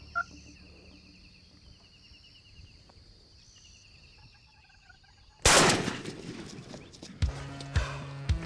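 Wild turkeys gobble outdoors during a hunt, their calls faint and distant at first, then a loud burst of commotion and rustling close by, followed by a couple of sharp knocks and gobbles.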